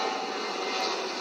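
A jet airplane roars near LaGuardia Airport in a steady, broad rushing drone, moderately loud and continuous, with no speech.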